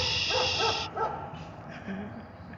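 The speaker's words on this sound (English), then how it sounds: "How to silence your neighbor's dog." A neighbouring dog gives three quick barks close by, then quieter yips and whimpers follow under light background noise.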